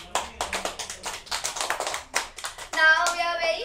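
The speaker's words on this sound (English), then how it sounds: "So, one round of applause because it's successful." Several people clap in scattered, uneven bursts for a few seconds, with a bright tonal sound rising near the end.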